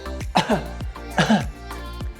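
Three harsh coughs in a row, evenly spaced and fairly close, with no talking around them.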